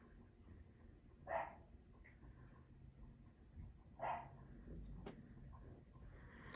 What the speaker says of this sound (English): You're not used to hearing dogs here.